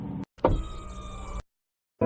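A cartoon car rolls up and brakes to a stop, giving a short mechanical whir and hum with an abrupt cutoff. Silence follows before another sound begins.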